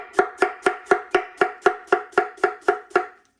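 A very sharp Yaxell Super Gou 8-inch kiritsuke knife slices through an onion on a new cutting board, about twelve crisp, evenly spaced thunks in a quick steady rhythm, close and clear with no talk.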